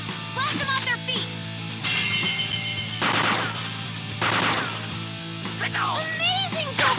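Gunfire in a Persona 5 Royal battle: several sharp shots and bursts ring out amid game music, effects and dramatic voiced lines.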